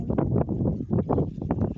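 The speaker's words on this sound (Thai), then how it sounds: "ลมแรงลมแรง" Strong wind buffets the microphone outdoors among strawberry fields, gusting in loud uneven surges of low rumble with no speech over it.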